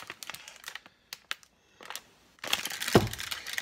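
Packaging of an Amy's Mexican Casserole bowl being opened: scattered crinkles and crisp plastic snaps, then a denser stretch of rustling and tearing with one sharp loud crackle near the end.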